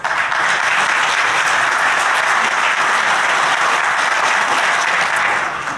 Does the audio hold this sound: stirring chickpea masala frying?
no